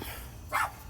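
A single short dog bark sounds once at moderate distance, brief and fairly faint against a low background hum in an outdoor yard.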